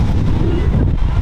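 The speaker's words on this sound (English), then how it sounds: "it's pretty windy" Wind gusting across a microphone on a cloudy, rainy day in Amalfi, a brief steady rumbling buffet that stays loud and close throughout.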